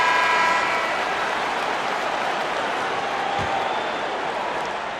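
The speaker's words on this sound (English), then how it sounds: "This Boston crowd really making their presence felt." Boston Celtics home crowd in the basketball video game NBA 2K23 makes a continuous, fairly loud arena roar that stays even and slowly fades slightly toward the end, with no clear voices.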